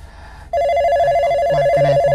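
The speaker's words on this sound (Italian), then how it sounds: "Ecco qua il telefono, mi suona." An Italian household telephone starts ringing after a quiet moment, a loud, sustained electronic ring with a warbling tone and some light background noise, no speech over it.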